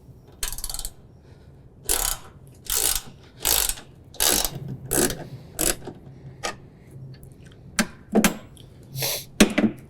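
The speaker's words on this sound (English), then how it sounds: "we need to go ahead and remove this bolt here. So this is going to be a 13 millimeter." A ratchet wrench loosens a 13 mm bolt on a John Deere Z735M zero-turn mower, giving about a dozen crisp, close bursts of pawl clicking in an uneven rhythm with short pauses between strokes.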